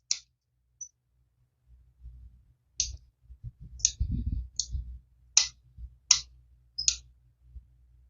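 Pruning shears cutting off this year's new azalea shoots after flowering: about eight crisp, separate snips spaced roughly a second apart, close and clear, with faint low rustling of branches between cuts.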